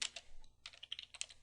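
A quick run of keystrokes on a computer keyboard entering ETH0 into a Linux log search, close and crisp clicks in two bursts separated by a short gap, with no voice.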